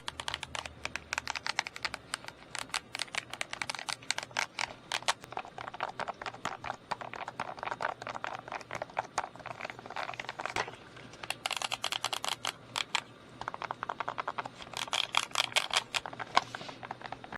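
Key presses on a CM WK-100 2.4GHz wireless keypad, a fast, continuous stream of crisp clicky taps in uneven bursts, close and fairly quiet, with no talking.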